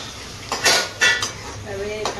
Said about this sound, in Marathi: मी इकडे पाडतो नुसते भांडी.